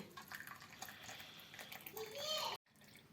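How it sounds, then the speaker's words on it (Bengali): Lemon tea is poured into a cup as a steady liquid trickle whose pitch rises as the cup fills, then stops abruptly, with faint voices in the background. "এবারে আমি চাটা ঢেলে নিচ্ছি কাপের মধ্যে"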